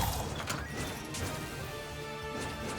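Dense, continuous crashing and smashing impacts from the Shattering Strike attack in Wizard of Legend, layered with rapid game combat effects and bright metallic hits throughout.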